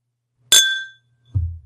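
A glass knocks against a microphone with a single bright, ringing clink that decays, followed moments later by a dull low bump, both loud and close with no talking.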